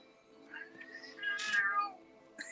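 A cat gives a few short, quiet meows close by, one rising into a longer, louder cry, with a faint background hum.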